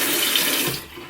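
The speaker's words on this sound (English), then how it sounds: "And then I will go in and just rinse it away under the sink." Water runs steadily from a sink tap while a makeup brush is rinsed under the stream, a close, loud continuous splash that eases slightly near the end, with no voices.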